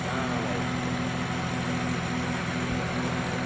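A Honda Accord's J35 engine idling with a newly fitted cold air intake, a steady, even, close-up drone that holds without change throughout.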